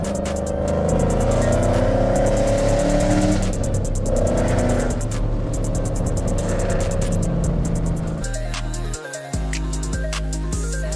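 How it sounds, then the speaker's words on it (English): A loud Ford Mustang GT engine revs hard through pulls and downshifts. It roars close and continuous, then shifts to a choppier, rising pitch near the end. "The loudest Mustang on the block is here."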